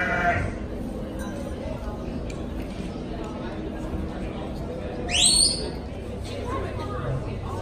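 Sheep bleat amid a busy crowd murmur at the Royal Highland Show livestock tents in Edinburgh, with one louder, rising bleat standing out near the end over the steady background chatter.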